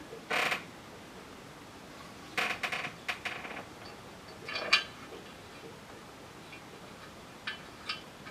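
A small screw is being worked into its thread, giving a few short, dry creaks and ticks in separate bursts with quiet gaps between them, close to the mic and faint.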